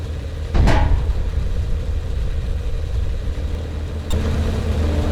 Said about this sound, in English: I know I'm pushing my engine, but so be it.